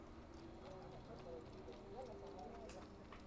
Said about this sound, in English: So we do get a horse.